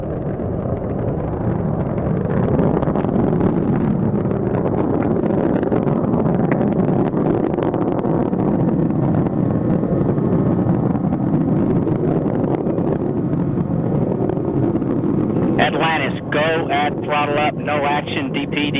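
Space shuttle main engines roar in a continuous, distant broadband rumble during the final launch of the shuttle, with wind buffeting the microphone; a radio voice speaks over the roar near the end.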